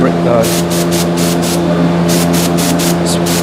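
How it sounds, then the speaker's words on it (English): Several short hissing bursts of brake cleaner sprayed from an aerosol can during a Subaru Legacy brake pad replacement, close and loud, in quick succession over steady background noise. "spray some brake cleaner real quick"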